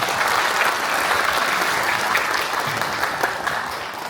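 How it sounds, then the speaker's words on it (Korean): Steady, dense applause from a large audience at a town hall meeting in Incheon, South Korea, loud and sustained throughout. "큰 박수 부탁드리겠습니다"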